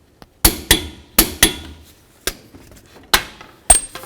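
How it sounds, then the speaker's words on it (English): A hammer peens the axle nut into the axle groove while replacing a front CV axle on a 2006-12 Ford Fusion, giving sharp, close metallic strikes with short gaps between them, several in pairs, and no talking. "the next thing you want to do is peen over the axle nut right into this groove on the axle itself"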